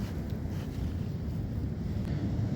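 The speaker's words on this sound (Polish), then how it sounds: "wiatr." Low, gusty wind buffeting the microphone in a steady rumble at a military naval firing range during a sniper competition, with no voices.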